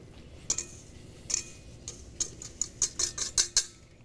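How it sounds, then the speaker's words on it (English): Rapid clinking and ticking of a utensil against a container as dry sorbet ingredients are mixed into water, irregular at first then quickening into a steady stirring rhythm, close by. "Mix it very well because you want to make sure there's no lumps"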